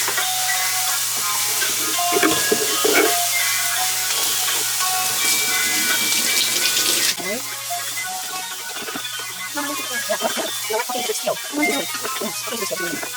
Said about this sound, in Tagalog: So, lagay ko lang dito, atin na siyang hugasan,